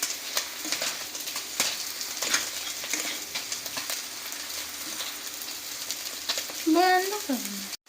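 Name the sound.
frying jackfruit and potato with spices in a pan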